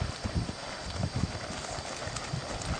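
A horse's hooves clip-clop over a jump obstacle during natural horsemanship training, giving a series of soft, irregular thuds that sit fairly faint against steady outdoor background noise.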